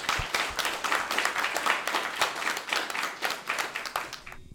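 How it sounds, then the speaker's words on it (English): An audience claps in steady applause for a few seconds at a club show, the sound fairly dense and even, tapering off toward the end. "Audience, give them a big round of applause."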